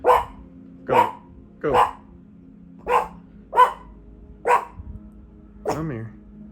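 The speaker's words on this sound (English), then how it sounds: "Oh, there's my dog." A dog barks about seven times in an evenly spaced series, close and loud, with a softer whimpering yelp at the end, while a person speaks briefly between barks.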